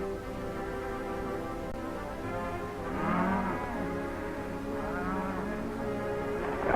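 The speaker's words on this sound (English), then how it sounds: "That's some of our cattle down there." Cattle low and moo in overlapping, drawn-out calls from a herd somewhere below on open range, a steady mix of moderately distant bellows with no talking.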